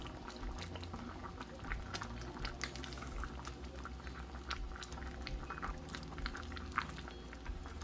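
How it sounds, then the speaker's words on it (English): Jamaican stew peas with chicken foot, Maggi stock and Scotch bonnet pepper simmer in a pot, giving a faint, continuous bubbling with scattered soft pops and no voices. "And we're just gonna let this simmer down."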